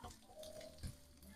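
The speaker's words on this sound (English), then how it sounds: "I can hear it sizzling now" A pan sizzles steadily on the stove, ahead of spicy lamb with black olives going in, with a soft steady frying hiss and one brief louder clatter partway through.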